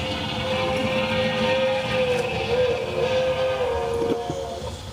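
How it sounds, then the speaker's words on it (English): A streamliner train rushes through the night in a radio drama effect, a steady loud rumble of rail noise with a long whistle tone running underneath. "The cracked streamliner of the West Coast Railroad rushes through the dark at 80 miles an hour"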